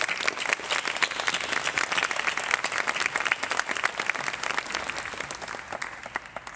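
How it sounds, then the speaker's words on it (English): Steady audience applause at a scholarship event, dense clapping from many hands holding at an even level throughout with no voices over it. "Let's give another round of applause for you."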